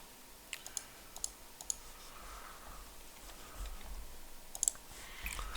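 A computer mouse being clicked on a trading platform: a few faint, sharp clicks spaced out over quiet room noise, with another small cluster near the end.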